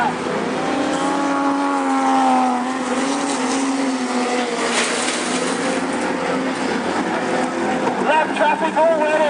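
Super stock cars racing on a track during a truck-series round, engines roaring loudly with pitch sweeping as cars pass through lap traffic, beneath a commentator's running talk.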